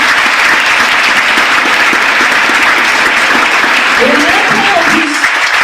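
Steady applause from a ceremony audience at a New Year's greetings event, dense clapping throughout that fades near the end, with a voice briefly speaking over it.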